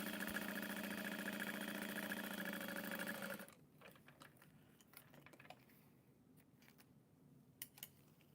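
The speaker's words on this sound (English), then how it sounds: "top stitching all the way across." A sewing machine top-stitching across a tote bag whirs steadily and loudly for about three seconds, then stops. Faint clicks and handling noises follow.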